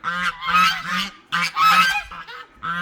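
Geese in a snowy, muddy bird lot honk nearby in loud, repeated bursts with short pauses between the calls.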